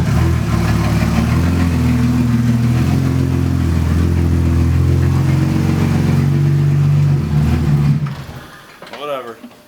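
A Toyota Supra MK4 engine idles steadily and loudly close by, with a low uneven drone that suggests a loose distributor, before it drops away near the end as someone speaks.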